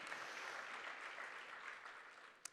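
An audience at a homeschool tournament morning devotion claps, a soft, fairly distant patter of applause that holds steady for a couple of seconds before a single sharper clap.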